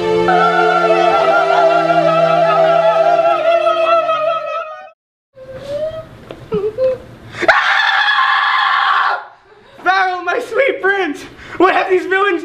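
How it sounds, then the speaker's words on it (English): A voice lets out long, shrill screeches in bursts, broken by short gaps and snatches of talk and laughter. "Victory screech!"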